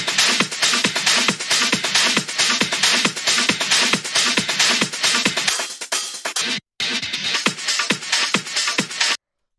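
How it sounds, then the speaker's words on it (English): Hard rave techno percussion, three layered loops, pounds in a fast steady pulse with crisp, noisy hits, breaking briefly for a short gap before resuming and then cutting off. "Then we have this quote-unquote rave percussion, which sounds like this."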